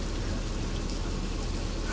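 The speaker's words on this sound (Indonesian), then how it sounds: "BTW ini hujan deres." Heavy rain pours down in a continuous dense roar, loud and steady with no break or voices over it.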